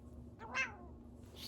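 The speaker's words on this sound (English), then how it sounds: "You want to see my cat?" A pet cat lets out a single short, faint meow indoors, with a rising then falling pitch, heard alone in a quiet room.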